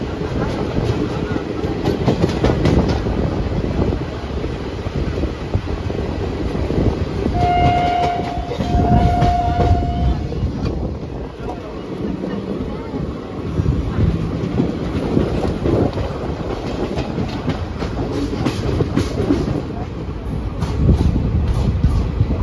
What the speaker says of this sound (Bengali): আর বোলপুর ছেড়ে যাচ্ছে, নির্দিষ্ট টাইমেই ছেড়ে যাচ্ছে।